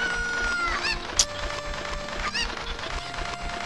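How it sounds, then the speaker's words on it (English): Cucco chickens in Kakariko Village in the Ocarina of Time video game, clucking and squawking repeatedly over steady game music, with one sharper, louder cry partway through. "Pick up a lot of chickens in this village."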